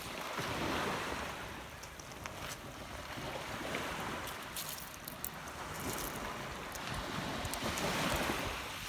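Surf washes ashore on a Captiva Island sunset beach as the tide comes in, a steady broad roar of breaking waves with gusts of wind noise over the microphone and no talking.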